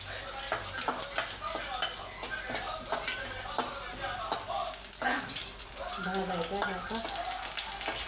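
Curry leaves roasting and crackling in a hot pan while being stirred, a steady close sizzle with small pops throughout.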